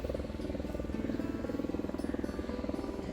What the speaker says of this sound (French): Un hélicoptère qui fait que de faire des allers-retours.